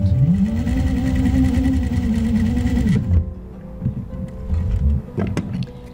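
A sewing machine runs steadily for about three seconds, stitching a patchwork piece diagonally, with a bright motor whine, then stops and leaves quieter handling noises.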